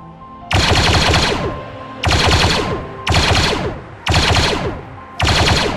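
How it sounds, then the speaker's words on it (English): Five loud bursts of automatic gunfire from a modded weapon in Fallout 4, each rattling rapid-fire volley lasting about a second with short pauses between, close and dominant with no talking. "All right, couple test shots, make sure we're good."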